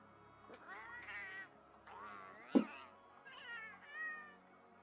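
A cat companion in the video game Monster Hunter World meows several times in a row, clear and close, with tonal rising and falling calls and a brief sharp sound midway.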